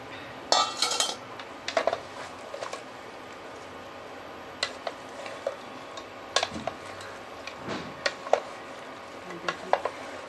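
Potato and garlic tipped into a cooking pan and stirred, giving a string of sharp clinks and scrapes of utensil on metal, spread irregularly across the stretch with soft rustling between.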